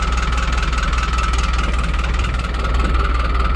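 A small tractor engine idling outdoors on a snowy morning, a steady, loud, close rumble with an even rapid pulsing throughout, no talking.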